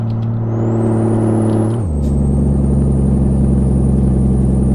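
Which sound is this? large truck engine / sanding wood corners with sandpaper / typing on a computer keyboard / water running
large truck engine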